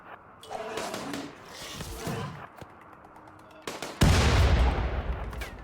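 A grenade goes off in RimWorld, a heavy booming blast near the end that follows lighter pops and thuds of combat. The explosion is loud and close and lingers briefly as a rumble.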